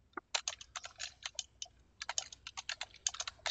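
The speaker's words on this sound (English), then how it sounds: "So we typed in how to build an email list, hit enter, and find something." Someone types a search query into Google on a computer keyboard: quick, crisp key clicks in uneven bursts, close up and alone, with no talking.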